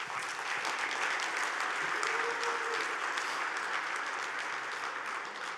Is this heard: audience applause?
yes